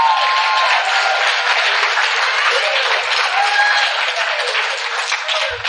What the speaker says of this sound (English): let's give a round of applause for Black women